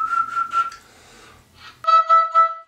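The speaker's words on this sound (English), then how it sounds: "Just whistle and put your oboe reed in the embouchure." Someone whistles a steady tone as the basis for an oboe embouchure, a short held note followed by a pause and then a few more brief whistled notes, close and clear with no talking.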